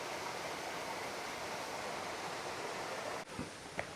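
Steady, broadband rush of a waterfall and flowing stream water at Ramp Waterfalls in Maredumilli, continuous and enveloping, with a brief dip and a couple of small knocks near the end.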